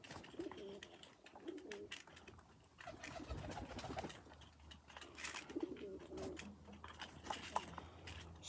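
Cumulet pigeons, a high-flying breed kept at a loft in the North East of England, coo softly in several low, throaty bursts among light rustling and ambient noise.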